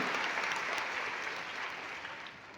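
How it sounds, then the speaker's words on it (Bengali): An audience claps loudly and continuously for several seconds, dense applause from many hands at a gathering, fading slightly toward the end. "একদম ফাটিয়ে হাততালি হবে"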